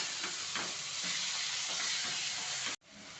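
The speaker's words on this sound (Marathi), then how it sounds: "ती भाजी टाकते आणि चांगली तेलात मिक्स करते" Cooked amaranth leaves stir-fried in oil in a pan, a steady loud sizzle with faint scraping of stirring, cutting off abruptly near the end before a quieter hiss resumes.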